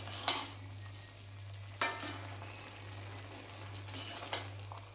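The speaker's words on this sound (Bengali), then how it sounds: "একটু ভালোভাবে নেড়েচেড়ে দেখবো যে আলু আর বাঁধাকপিটা সেদ্ধ হয়েছে নাকি" Potatoes and cabbage, cooked for a cabbage ghonto with lentil dumplings, stirred in a pan: three scraping stirs at a slow, uneven pace over a steady low hum and soft sizzle, close and fairly quiet.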